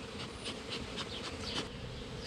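A swarm of bees drones inside a hollow bee tree, a dense steady buzzing with individual insects flitting past, close and continuous.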